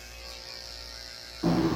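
Electric dog clippers with a tin blade buzz steadily while shaving under the tail of a 16-year-old Cairn Terrier, a close, constant hum that grows louder and harsher near the end as the blade meets the coat.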